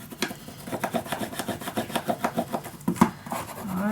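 A bone folder rubs firmly along glued paper edges of a handmade mini album, making a steady series of close, raspy strokes in a quick back-and-forth rhythm.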